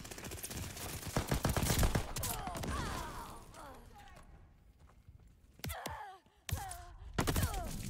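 In Call of Duty: Vanguard, an MP40 submachine gun fires in quick rattling bursts with sharp reports, broken by brief pauses and game effects in a free-for-all match, and a player talks over the action.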